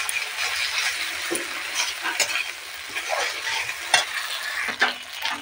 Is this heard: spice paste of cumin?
yes